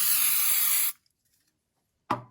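A spray can hisses onto macrame yarn in one steady burst lasting about a second, close and loud. Silence follows, then a short soft thud.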